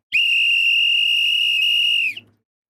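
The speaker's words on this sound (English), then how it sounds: "they fixing to go and blow that whistle for that hydration break" A football referee at the Norway vs Ivory Coast World Cup round-of-32 match blows one long, steady, piercing whistle blast for a hydration break, lasting about two seconds and then cutting off abruptly.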